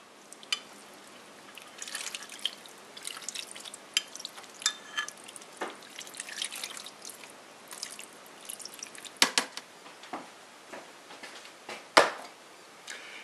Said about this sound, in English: I'm going to pour this over peppers.